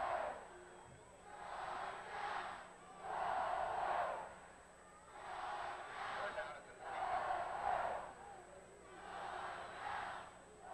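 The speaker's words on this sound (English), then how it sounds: "Crowd trying to get into it a little bit now." A college football crowd at a 1991 Savannah State at Georgia Southern game roars and cheers in rising and falling waves, distant and washed out, with a steady tone running underneath.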